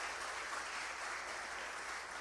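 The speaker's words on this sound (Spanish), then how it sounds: "un aplauso para ellos" Church audience clapping for young musicians who serve the congregation, a steady, dense roll of applause held at an even level throughout, moderately distant, with no voices on top.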